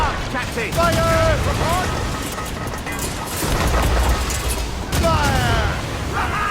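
Ship cannons firing in a naval battle in Assassin's Creed Rogue, heavy booming volleys rolling under a busy battle din, with shouted crew voices over the blasts.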